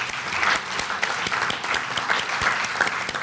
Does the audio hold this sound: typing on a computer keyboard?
no